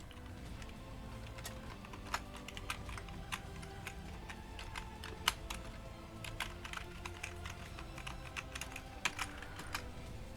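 A password is typed on a computer keyboard with a quick, irregular run of soft key clicks and taps, close but fairly quiet against a low background hum, and no voices.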